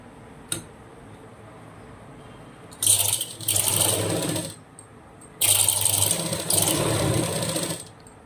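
A sewing machine stitches a blouse hook strip, sewing cloth half an inch in from the edge. The whirring runs in two sustained bursts of a couple of seconds each, close and fairly loud, separated by a quiet pause.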